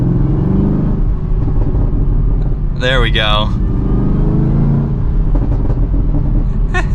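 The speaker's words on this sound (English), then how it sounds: "And you have this exhaust, ready?" Supercharged V8 exhaust of a 2023 Chevrolet Camaro ZL1 revving hard, a loud, close rising roar that peaks sharply for about a second, then settles back to a deep, steady rumble, with a short spoken remark over it.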